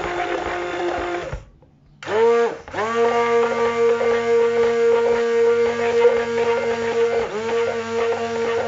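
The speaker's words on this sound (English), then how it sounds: "you can use a blender now to make it a custard consistency" A kitchen blender whirs while mixing a rice custard, its motor stopping briefly then restarting with a steady high-pitched hum that wavers as the load shifts, loud and close.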